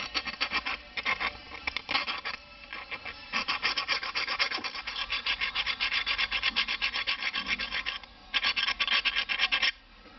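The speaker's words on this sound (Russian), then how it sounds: "Нужно его зачистить напильничком. Берем напильничек, защищаем." Metal file rasping back and forth across a scooter kick-starter shaft, a steady run of close, rhythmic scraping strokes with brief pauses, no talking.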